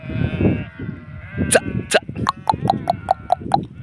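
A flock of sheep bleats outdoors, a run of loud, close calls coming one after another in quick succession, with low rustling and faint voices underneath.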